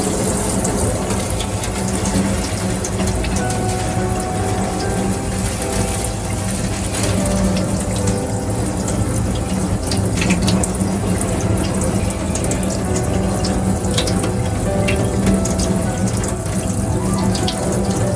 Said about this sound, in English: Wash away the old soil with water.